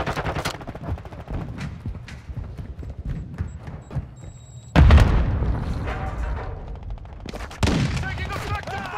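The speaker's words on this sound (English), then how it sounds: "Taking effective fire." Gunfire in the video game Call of Duty Modern Warfare 2: rapid, close bursts of shots rattle throughout, with a heavy booming barrage midway and another loud volley near the end.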